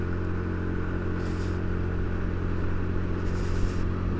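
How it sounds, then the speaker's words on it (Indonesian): A motorcycle carrying two riders labours up a steep hill near Sentul, Indonesia, its engine giving a loud, steady, strained drone that holds throughout without breaks. "mesin gua harus bekerja ekstra guys"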